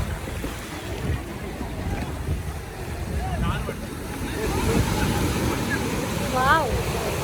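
Strong wind and spraying seawater at Baga beach in North Goa make a loud, continuous rush of gusts and surf, building toward the end, with faint voices underneath.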